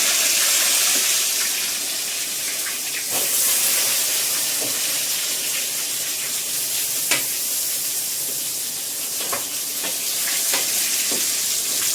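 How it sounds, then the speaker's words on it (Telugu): Fish fries in a pan with a loud, steady, close sizzle and hiss, broken now and then by soft pops and spatters. "ఒక పక్కన ఫ్రై అయిపోయిందండి తీసేస్తున్నాను"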